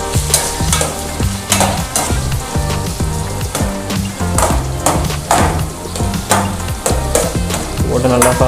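Tomatoes sauté for paneer dosa, a steady loud sizzle with stirring scrapes running throughout, while music plays underneath.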